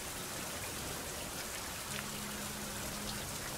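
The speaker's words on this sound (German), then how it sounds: "Wir haben es noch nicht abends, aber es regnet." Rain falling in the survival game Fountain of Youth, a soft, even hiss of steady rainfall with a faint low hum entering partway through, quiet and constant with no speech.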